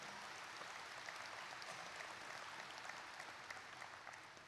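An audience applauding the troops at a speech, a dense, even wash of clapping that holds steady and heard at a distance, fading slightly toward the end.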